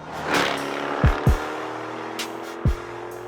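A 2024 Jaguar F-type accelerates through its gears, a steady engine drone broken by a few sharp low thumps at the shifts, fairly close and with no talk.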